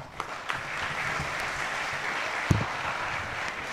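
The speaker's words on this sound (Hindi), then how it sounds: "यहां तो तालियां बजती हैं" An audience claps at a talk, a continuous moderate burst of applause from a crowd of listeners, with a few sharper thumps standing out from the steady patter.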